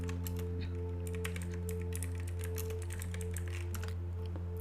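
Quick, steady keystrokes on a computer keyboard typing out a search, close and continuous over a constant low electrical hum, with no voices.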